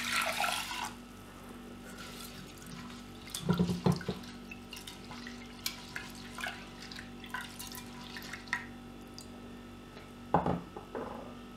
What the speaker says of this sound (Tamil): இப்போது தண்ணி ஊற்றி வாஷ் பண்ணிக்கலாம்.